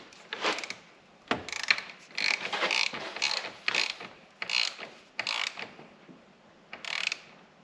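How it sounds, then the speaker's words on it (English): A torque wrench tightens bolts on a Lexus engine, giving repeated bursts of ratcheting clicks in short, uneven runs, close and clear with no voices. "we will grab our torque wrench and torque these to the spec"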